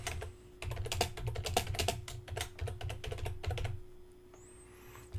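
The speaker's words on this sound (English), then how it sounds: "Now what I want to do is I'm going to type," Rapid typing on a computer keyboard, close and clear, with quick clusters of key clicks over about four seconds before it stops.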